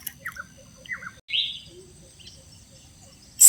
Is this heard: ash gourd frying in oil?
no